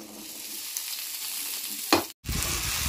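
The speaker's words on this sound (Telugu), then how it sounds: "ఈ బెండకాయలు కూడా వేపుకున్నాం" Okra frying in a pan with oil, a soft steady sizzle with a brief stirring scrape near the end, close and moderately quiet.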